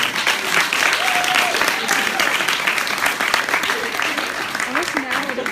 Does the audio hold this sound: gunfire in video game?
no